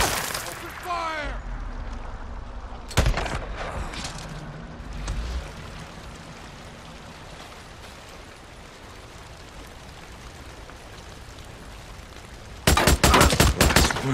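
Gunfight in the video game Days Gone during an ambush at a railway camp, with bursts of rapid gunfire at the start, middle and end over shouted voices and background game noise.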